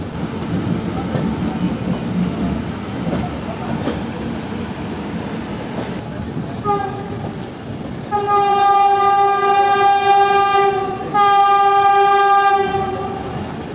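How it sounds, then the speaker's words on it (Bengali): The Howrah-to-Puri Vande Bharat Express rumbles past nearby with clattering wheels, then sounds two long, loud horn blasts in close succession over the running noise. "আমাদের ট্রেনের সঙ্গে দেখা হয়ে গেল হাওড়া থেকে পুরীগামী বন্দে ভারত এক্সপ্রেসের সঙ্গে"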